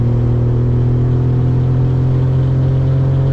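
A Suzuki Cappuccino's small engine holds a loud, steady droning hum from close inside the car as it drops into fourth gear on a downhill stretch, with no talking over it.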